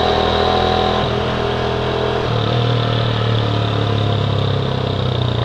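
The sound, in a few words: motorcycle engine running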